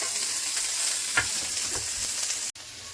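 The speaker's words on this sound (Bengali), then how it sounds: "পেঁয়াজ, রসুন, কাঁচা লঙ্কা দিয়েছি, অল্প লবণ দিচ্ছি, ভেজে নেব।" Chopped onion, garlic and green chili fry in hot mustard oil in a kadai with a steady, loud sizzle and a few stirring scrapes, cut by a brief break near the end.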